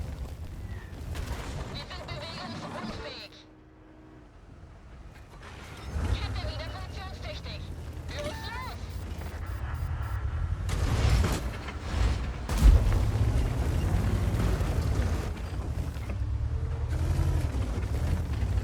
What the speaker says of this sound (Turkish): Arti de sürekli burayı dövmeye başladı.